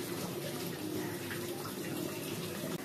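Tap water runs steadily while spinach leaves are washed in a kitchen sink, a continuous close splashing rush with no pauses.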